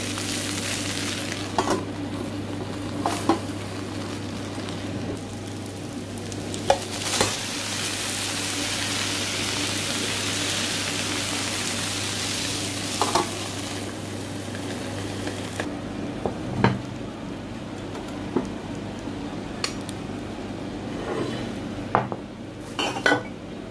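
Bonito fish sizzles and fries in aluminium foil in a pan, a steady close crackle with occasional scrapes and clinks of a utensil against the pan over a low hum, no talking.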